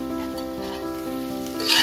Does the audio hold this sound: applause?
no